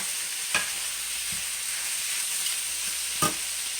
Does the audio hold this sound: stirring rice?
yes